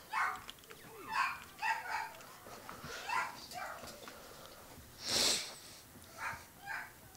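Dog barking in the Battlefield 1942 video game, several short yelping bursts spread through the stretch at moderate loudness, with faint sniffing and snorting between them and no talk.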